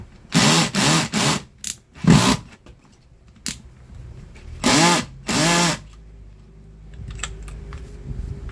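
Screws being backed out of a clothes iron with a powered screwdriver: several short, sharp motor whirs, some in quick pairs, with quiet pauses and clicks between them.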